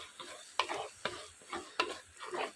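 Spices and turmeric powder being stirred in a frying pan of sautéing mushroom kurma base: a spoon scrapes in repeated rhythmic strokes, about five sweeps, over a soft sizzle, close and clear with no talk.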